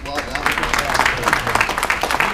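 Brief applause from the audience at a Utah legislative district GOP debate, a dense burst of many hands clapping that stays fairly loud and even for a couple of seconds.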